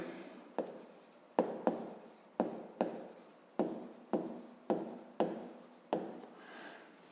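Pen strokes scratch across paper while numbers are written by hand, in about ten short bursts, each a sharp onset that fades, close and fairly quiet with no talk over it.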